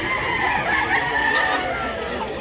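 Outdoors at a Cebu gamecock yard, a rooster lets out a long, drawn-out crow close by, loud and continuous over a couple of seconds with no speech.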